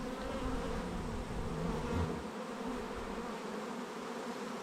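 Honeybees swarm an opened, strong hive during comb cleaning, with crowds of bees across the bottom; a dense, steady buzzing hum fills the whole stretch, close and unbroken, with no voices.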